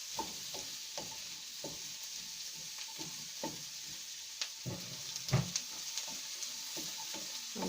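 Cauliflower is stirred in a cooking pot for a Mapuche piñon stew, with a soft sizzle under repeated rhythmic scrapes and taps of a spoon against the pot, close and fairly quiet.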